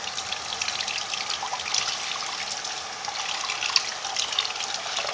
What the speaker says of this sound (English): Turn the water on like so.